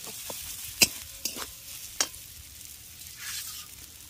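Peanuts and coconut frying on low heat, with a soft, quiet sizzle broken by a few sharp clicks of a spoon stirring against the pan.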